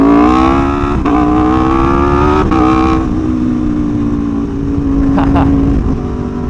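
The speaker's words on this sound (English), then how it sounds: "I love the way this bike pops." A motorbike revs hard and close, its engine tone climbing in steady harmonic sweeps, with sharp exhaust pops breaking through around the rises before it settles into a sustained drone.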